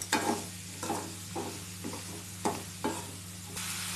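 Moringa leaves sauté in a pan, a steady low sizzle broken by periodic scraping bursts as they are stirred, fairly quiet and with no voices.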